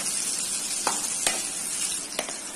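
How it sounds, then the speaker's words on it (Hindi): Chopped onions sizzle steadily in a hot pan, a constant bright hiss with a few faint clicks of stirring, close and with no talking. "प्याज को ट्रांसपेरेंट होने तक भून लेंगे"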